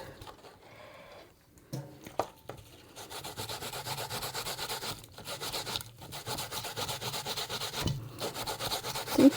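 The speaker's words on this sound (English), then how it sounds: "See, still I grate some more banana." Small finger bananas being grated by hand for salt fish fritters: steady, close rhythmic rasping strokes that build in pace and loudness, with a few pauses and knocks early on.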